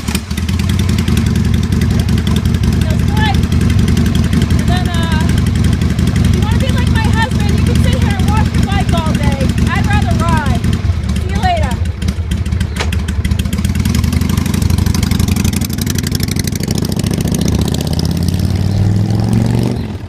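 A 2000 Harley-Davidson Sportster 1200 motorcycle engine is started and left idling, a loud close continuous lumpy rumble with its throb steady throughout while a person talks over it.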